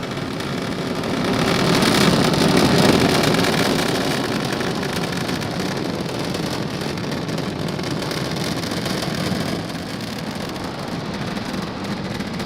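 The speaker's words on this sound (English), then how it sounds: "Falcon 9 has successfully lifted off from Pad 40 at Cape Canaveral Air Force Station" A SpaceX Falcon 9 rocket lifts off from Pad 40 at Cape Canaveral, its distant roar a broad, continuous rumbling crackle that swells early and then holds steady.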